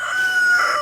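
A rooster newly introduced to an old flock of hens crows in one sustained, loud, close call with a steady tonal line, no speech over it.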